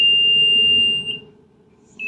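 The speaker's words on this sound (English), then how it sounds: "by passing it over a test object to ensure that its alarm goes off." A handheld metal detector at a maritime security screening point sounds a single steady, piercing alarm tone for about a second, then cuts off, with a short chirp at the very end.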